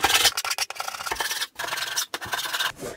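Drywall compound being sanded by hand on a wall during an RV bathroom renovation, a close, loud, rough rasping scrape in quick irregular strokes with short pauses between passes.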